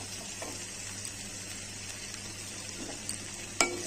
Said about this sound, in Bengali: নুন হলুদ দিয়ে আলুটাকে আমি ভেজে নিচ্ছি